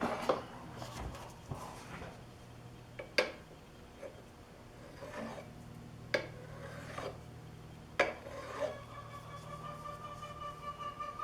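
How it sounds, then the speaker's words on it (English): A metal knuckle corner being filed by hand, slow intermittent rasping strokes with sharp scrapes and clinks between quiet pauses, close and fairly soft. "So we're going to go back in and just file that."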